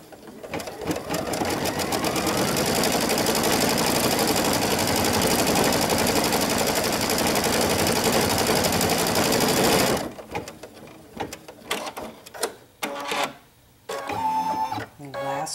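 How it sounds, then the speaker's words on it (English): Embroidery machine stitching flower stamens on a quilted table runner, a loud, rapid, continuous mechanical chatter for about ten seconds, then stopping into scattered clicks and handling sounds. "Now we're stitching out the stamens in the middle."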